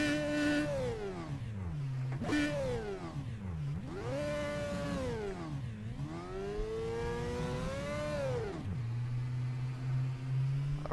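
A Marussia F1 car engine in rFactor 2 screams up through the revs in repeated rising sweeps, each ending in a sharp drop at a gear change, then settles to a lower hum. The engine is loud, close and alone.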